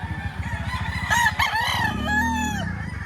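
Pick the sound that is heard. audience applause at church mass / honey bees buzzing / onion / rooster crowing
rooster crowing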